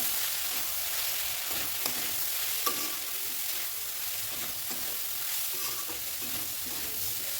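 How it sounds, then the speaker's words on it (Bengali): Flattened rice being stirred and fried in refined oil in a pan, a steady close sizzle with scraping stir strokes and occasional clicks throughout, no talking. "এবার চিরাটা দিয়ে দিচ্ছি, দেখেন একদম একটা গায়ে একটাও লাগেনি। এবার একটু নাড়িয়ে দিলাম।"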